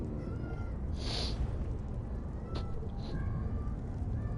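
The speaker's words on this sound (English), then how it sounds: "Cat is annoying as shit out of me." A house cat meows in a short burst near the start, with a fainter mew a little later, over steady background noise.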